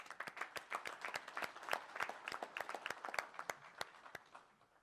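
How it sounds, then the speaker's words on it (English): Audience at a general session clapping in a round of applause, a scattered mix of distinct hand claps from a modest crowd that thins out and fades toward the end. "and a round of applause to all of you."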